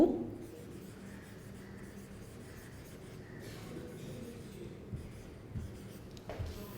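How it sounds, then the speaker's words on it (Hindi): Writing on a board during a business studies lesson on wholesalers, faint continuous scratchy strokes with a few soft taps near the end, no speech. "मैं थोड़ा ऐसे लिख देती हूँ"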